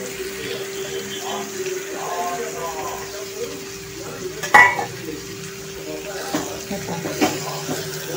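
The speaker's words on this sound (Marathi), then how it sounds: "आपण तेलावरती छान अशी सुकट मस्त फ्राय करून घ्यायची आहे" Soaked, squeezed-dry shrimp (sukat) frying in oil in a pan gives a steady, moderate sizzle with a few sharp clinks of a utensil, and a faint voice can be heard in the background.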